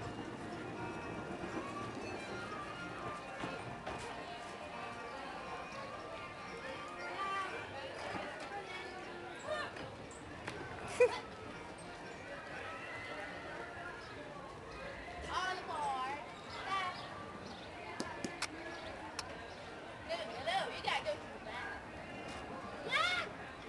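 Faint clip-clop of horse hooves pulling a carriage at PortAventura in Salou, Spain, heard in the distance beneath crowd babble and nearby voices.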